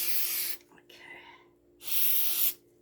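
Johnson automotive silicone sprayed from an aerosol can over a resin pour: two loud, sustained hissing bursts about a second apart, with a quieter sputtering spray between them.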